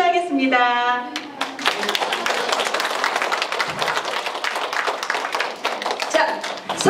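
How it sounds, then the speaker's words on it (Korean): Loud, sustained applause from an elderly audience at a care-center performance by a volunteer arts troupe, dense clapping filling the room for several seconds after a speaker's voice at the start, with voices rising again near the end. "커다란 박수 좀 부탁 좀 드리겠습니다"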